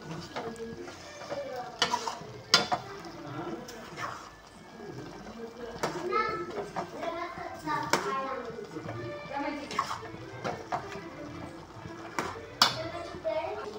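Green chilli paste is stirred into a chicken curry in a pan, with repeated scraping and sizzling strokes over a steady fry, while a voice talks throughout.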